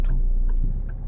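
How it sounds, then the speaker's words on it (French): Three soft, evenly spaced ticks from a car's turn signal sound over a low in-cabin rumble during a driving lesson. "Clignotant."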